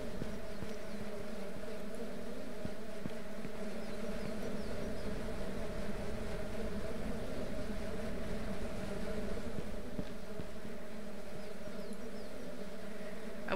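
Steady insect-like buzzing from bees around a hive in the farming video game Ranch Simulator, a continuous low drone with a constant hum throughout, moderately quiet and with no talk.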